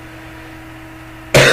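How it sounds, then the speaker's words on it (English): A person gives one sudden, loud cough at the very end, bursting out of a low, steady background hum. "please excuse this coughing"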